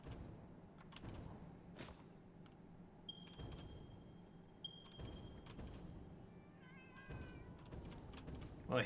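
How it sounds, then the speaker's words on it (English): A cat in the factory-building video game Satisfactory meows several times, faint and thin, spaced through the stretch under quiet ambient hum and soft clicks. "Well, I hear the cat."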